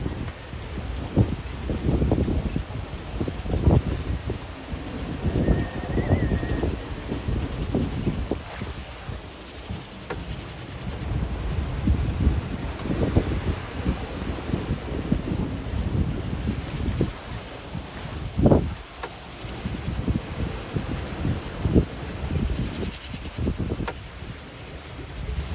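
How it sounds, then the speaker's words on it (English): Strong wind buffets a sailboat at sea during a rough solo overnight passage, a constant roaring rush with irregular thumps and knocks from the boat moving in close, steep seas. "when the wind gets up, the seas get up with it"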